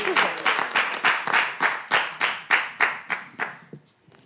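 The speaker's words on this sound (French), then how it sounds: "le accompagner avec des applaudissements, s'il vous plaît" A small group claps in a steady rhythm, about a dozen even claps that fade out toward the end, with no talking.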